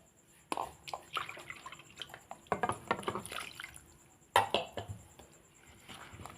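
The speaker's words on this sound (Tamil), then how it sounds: "இதை நல்லா மிக்ஸ் பண்ணி கரைச்சிக்கங்க." Beetroot rava dosa batter being stirred with water, wet sloshing and scraping strokes with drips in an uneven rhythm, close and fairly quiet.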